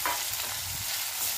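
Green chili paste tipped into softened tomatoes frying in a pan for a Maharashtrian pigeon pea amti, giving a steady, close broadband sizzle that holds evenly throughout with no voices.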